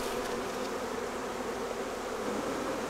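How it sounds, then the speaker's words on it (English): Honeybees buzz steadily and densely around brood-filled beehive frames during a hive inspection, a close, continuous swarm hum with no pauses. "I got a bee climbing on my ankle here"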